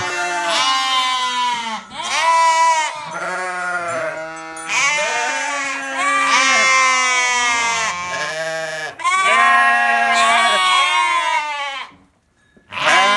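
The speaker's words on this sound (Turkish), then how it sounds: "Evet, kuzularımız, koyunlarımız." Sheep and lambs bleat loudly and continuously, many overlapping calls close by, with only a brief pause near the end.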